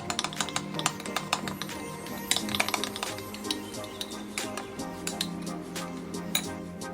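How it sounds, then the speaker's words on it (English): Blackberry puree being stirred into cream in a bowl for a no-bake chocolate dessert: close, steady clinks and scrapes of a utensil against the bowl, repeating without pause. "Now add 3/4 of the puree to the cream and mix."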